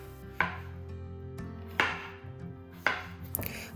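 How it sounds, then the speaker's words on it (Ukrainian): A knife chops firmly through pumpkin on a cutting board, dicing it into small cubes, three distinct thuds spaced about a second and a half apart, close and clear. "Потім нарізаю ці шматки ще дрібнішими кубиками"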